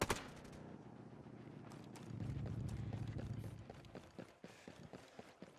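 Rapid clip-clop of hooves in the video game Ghost Recon Breakpoint, a horse running close by with rhythmic thuds, then scattered sharp knocks and clicks as the gallop slows.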